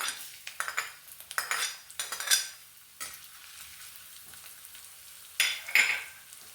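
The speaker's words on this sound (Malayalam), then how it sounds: "എണ്ണ ചൂടായി വരുമ്പോഴേക്കും അതിലേക്ക് ചെറുതായിട്ട് അരിഞ്ഞു വെച്ചിരിക്കുന്ന ഇഞ്ചി ഒരു സ്പൂൺ ഇട്ട് കൊടുക്കാം" Chopped ginger dropped into hot oil for Kerala-style egg rice, with intermittent stirring scrapes and spoon clinks against the pan over a soft background sizzle, close and moderately loud in short bursts.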